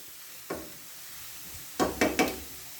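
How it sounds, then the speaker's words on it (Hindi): Garlic fries in a pan under a faint continuous sizzle, broken by one light knock and then three quick stirring clacks close by. "लहसुन हमारा थोड़ा सा फ्राई हो जाए।"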